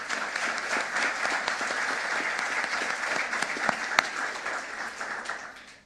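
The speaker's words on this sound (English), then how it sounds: "Big round of applause for those." An audience at an all-candidates meeting for deputy mayor and mayor breaks into sustained applause, a dense, even clatter of many hands clapping close by that fades slightly at the end.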